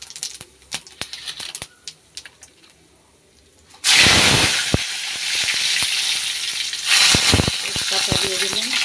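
Cumin seeds dropped into hot oil, starting with faint scattered ticks and clinks before bursting into a loud, steady crackling sizzle that swells again briefly toward the end, close by.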